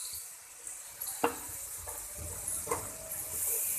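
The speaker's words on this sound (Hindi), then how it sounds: "इस मसाले को भी अब मैं भूनूंगी, हल्का सा लगाऊंगी पानी का छींटा" A splash of water hits masala frying in a pan for a cabbage and pea curry. A steady, bright sizzling hiss runs throughout, with several sharper spitting bursts as the water meets the hot spices.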